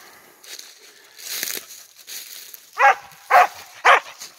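A coonhound bays three times at a treed raccoon during a night hunt, loud evenly spaced bawls near the end after quieter rustling and faint background sounds.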